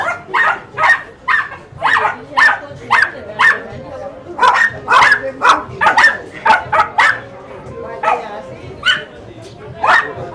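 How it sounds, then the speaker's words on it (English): Little Rat Mallorca ratting dogs bark loudly and close in quick bursts of sharp yaps, pausing briefly between volleys, at an open-air market on Mallorca. "Rat Mallorca, the little ratting dogs."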